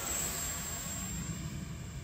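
A 3D-printed PLA+ Viggen model jet with a 50mm electric ducted fan flies, giving a continuous whooshing, whining roar that stays fairly steady and close, with no talk.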